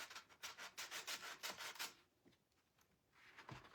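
Sandpaper rubs back and forth across a painted surface on a handmade Christmas tree of thrifted belts, a run of quick, close scratchy strokes that fade into quieter rasps.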